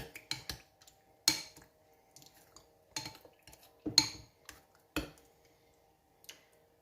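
A spoon mixes ice cream ingredients in a bowl, making scattered clinks and scrapes against the bowl at an uneven pace, close and fairly quiet, with short silences between strokes.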